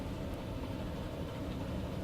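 Simulated train rumbling along in Transport Fever, a steady low mechanical drone and rolling noise, continuous and even.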